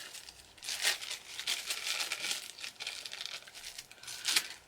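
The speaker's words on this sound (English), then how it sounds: "don't know about these blotting sheets and tearing it off" Thin oil blotting sheets crinkle and tear in a run of crisp papery rustles, close and fairly soft, with a sharper rip near the end.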